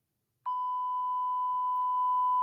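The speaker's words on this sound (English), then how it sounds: "And here's the sound of the siren." Simulated siren made of a single steady 1000 Hz pure tone that starts abruptly and holds constant, clean and alone against silence.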